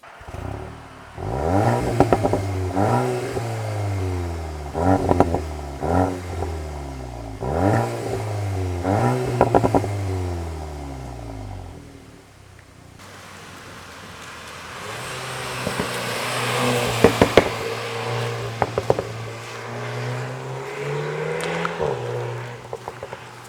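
A VW T-Roc R runs through its exhaust, first with a series of sharp throttle blips that rise and fall in quick repeated bursts, then with a longer idle and a rev. The car is close and loud and no one speaks.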